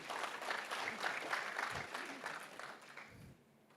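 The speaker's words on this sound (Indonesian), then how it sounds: "Oke, tepuk tangan dong buat Pak Andi." Congregation applauding during a church service, a broad wash of many hands clapping at steady volume for about three seconds before tapering off.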